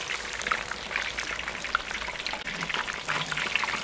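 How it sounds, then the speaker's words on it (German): Fried beef ribs bubble and sizzle in hot oil in a kazan pot, a dense, continuous crackling hiss with scattered pops, steady and close with no voices. "Wenn man diese durchschwenkt und diese hochholt, was da für Blubbern und Brutzeln dran ist"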